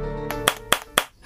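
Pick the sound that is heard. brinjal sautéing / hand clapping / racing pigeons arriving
hand clapping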